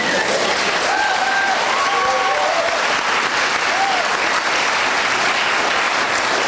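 Sustained audience applause after a stage performance, loud and continuous, with a few faint cheers and whoops mixed into the crowd.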